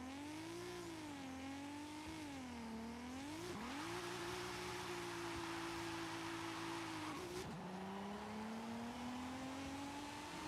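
NASCAR stock car at a drag strip in Forza Horizon 5, engine droning and revving steadily with tones rising and dipping through gear changes, loud and continuous with no talk.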